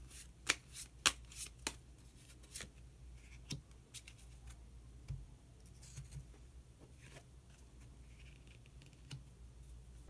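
Tarot cards are shuffled by hand in quick, crisp riffling flutters, loudest at first and then softening into lighter scattered taps, close and quiet with no voice.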